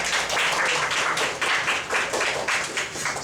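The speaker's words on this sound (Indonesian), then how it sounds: "mungkin boleh tepuk tangan dulu buat Mas Dap." Applause from an audience at a talk on export opportunities, a dense steady patter of many hands clapping at moderate loudness with slight pulsing swells, no voices over it.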